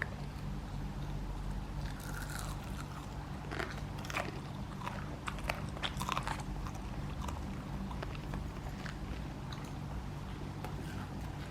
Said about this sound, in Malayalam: നല്ല ക്രഞ്ചിയാണ്. അങ്ങനെ ശബ്ദമൊക്കെ കേൾക്കുന്നുണ്ട്.